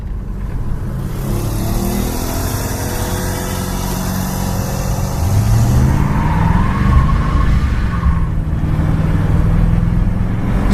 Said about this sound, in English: Squeals the tires as you're taking off.